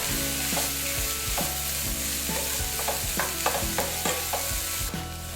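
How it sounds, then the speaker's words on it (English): Egg and Pad Thai ingredients stir-fried in a hot pan, a constant sizzle broken by repeated scraping and clattering strokes in an uneven rhythm, close and clear with no talking. "mix all the ingredients together"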